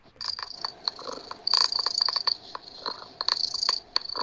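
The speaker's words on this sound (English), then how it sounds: "And sound like a cat purring." An unidentified strange noise recorded outdoors during a campfire talk, resembling a cat purring: repeated buzzy rattling pulses with a steady high whine, fairly faint and alone without talk.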